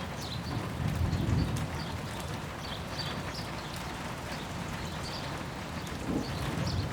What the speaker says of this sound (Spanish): Es una maravilla ver llover